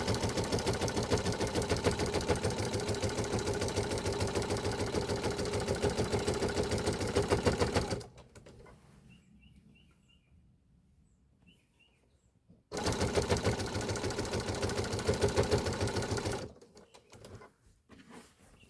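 A sewing machine fitted with a walking foot binds a quilt, pushing fabric and batting through in two loud, rapid mechanical runs separated by a quiet pause with faint chirps.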